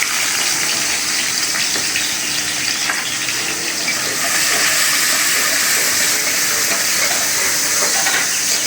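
Dried red chillies and onion fry in hot oil, making a steady, bright sizzling hiss that stays close and even throughout without pauses.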